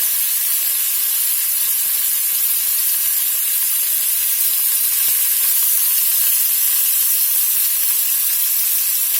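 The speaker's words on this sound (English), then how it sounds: "We'll start putting some of this beef in here. We're going to brown this off in batches." Chunks of beef sizzle steadily as they brown in batches in a hot stew pot, a continuous loud frying hiss with no talking.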